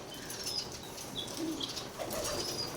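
Pigeons kept in a breeding loft, with soft wing flaps and faint cooing spread across a steady low background, no single call standing out.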